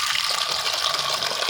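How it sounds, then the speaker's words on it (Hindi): Cold water pours steadily into a container to fill it for chickens, a continuous close gushing stream with no other sounds. "ठंडा पानी भरते हैं"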